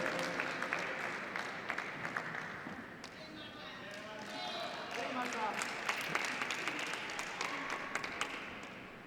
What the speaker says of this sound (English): Still deserves a round of applause for that remarkable effort, Martita.